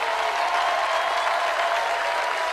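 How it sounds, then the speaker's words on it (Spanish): An audience at the Cosquín folk festival applauding for a vocal soloist, a dense, steady roar of clapping from a large crowd, sustained and even throughout. "Así que los vamos a aplaudir más fuerte todavía."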